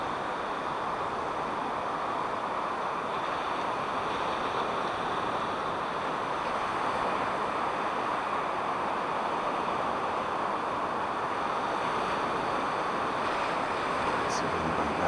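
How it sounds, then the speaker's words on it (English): Steady broadband wind rushes outdoors during a flight of a Syma X8C quadcopter drone, a continuous even roar buffeting the microphone throughout with no pauses. "a little bit of wind, tiny bit of wind blowing from the east"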